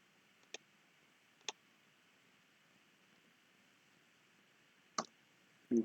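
Computer mouse clicks: a few sharp, isolated clicks spaced apart, close and fairly quiet over a faint steady hiss, with a louder knock at the very end and no talking.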